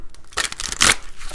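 A deck of tarot or playing cards is shuffled by hand up close, a brief burst of riffling, crisp flutter followed by lighter rustles.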